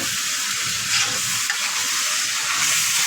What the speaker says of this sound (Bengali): এবার খাসির মাংসটা দিয়ে দিচ্ছি। এবার একটু ভালো করে আমাকে নাড়াচাড়া দিতে হবে